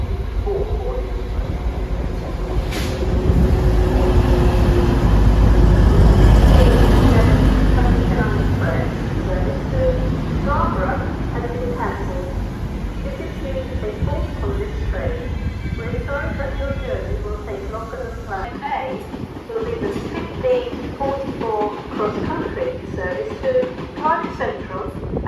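A train at York station rumbles and swells past at platform level, with wheel and carriage noise rising and fading, under station announcements and the murmur of people on the platform.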